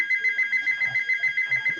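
A telephone rings in a steady electronic trill, a rapid repeating pulse that carries through the whole moment, close and clear with a faint low murmur beneath it.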